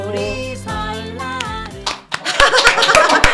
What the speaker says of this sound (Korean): 예, 박수 치고 시작합니다